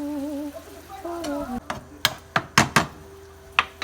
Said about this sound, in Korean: 애호박 볶음부터 빨리 하도록 하겠습니다.